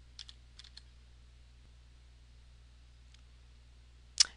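A few sparse computer keyboard keystrokes come in small clusters near the start, then a single louder key click at the end, close and clear against a quiet background.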